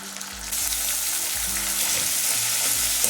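Green chili and onion paste fries in hot oil with a loud, dense, continuous sizzle close by, joined by faint scraping from stirring after a brief quieter start.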